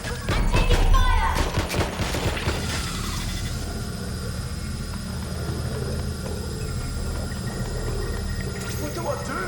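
Rapid gunfire crackles in the Watch Dogs Legion video game, a loud dense burst up front that gives way to steady combat noise, with voices shouting over it.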